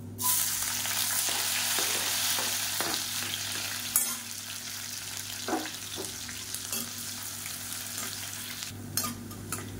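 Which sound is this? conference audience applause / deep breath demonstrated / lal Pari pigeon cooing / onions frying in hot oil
onions frying in hot oil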